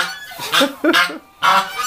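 A goose on a small farm gives three loud, nasal honks at close range in quick succession, with a short pause before the last one.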